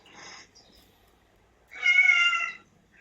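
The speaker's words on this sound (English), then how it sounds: "the cat's being rather vocal right now" A house cat meows twice nearby during a quiet moment in a podcast recording, first a short, softer call and then a longer, louder, drawn-out meow about a second later.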